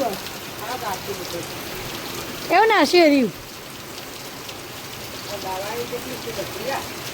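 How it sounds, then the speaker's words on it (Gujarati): Steady rain hisses throughout at a market in Siddhpur, with a brief burst of voices talking partway through and faint speech elsewhere. "અહીં તો વરસાદ આવી ગયો તો વરસાદ ચાલુ"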